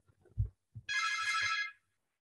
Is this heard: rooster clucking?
no